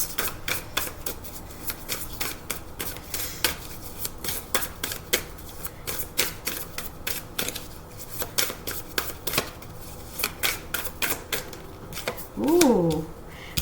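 Tarot cards are shuffled by hand in rapid riffling bursts, close and crisp, with a brief voice sound near the end.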